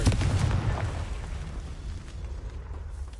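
A Confringo blasting spell explodes in Hogwarts Legacy, a loud booming burst up front that rolls off into a fading low rumble with no talk.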